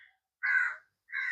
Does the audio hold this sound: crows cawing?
yes